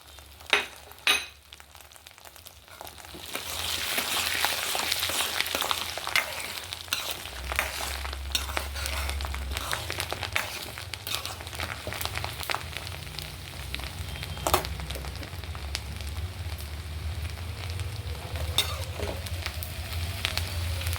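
Whole dried red chillies and mustard-type tempering seeds sizzle and crackle steadily in hot oil for a Telugu ripe-chilli pickle, a close, continuous frying hiss with a few sharp pops and stirring clinks, no talking.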